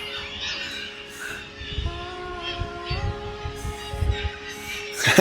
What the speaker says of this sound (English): you just get this cacophony of seabirds.